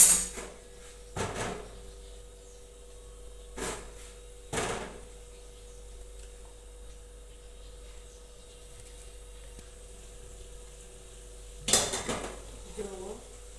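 A lid covers a cooking pot of eggplant-potato curry, making several sharp metallic clatters spaced apart by quiet stretches over a low steady hum.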